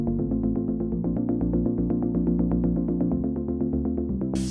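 Synth chords pulse in a quick, even rhythm, loud and close, sustaining through changing harmonies before a brief noisy burst at the very end; no voices.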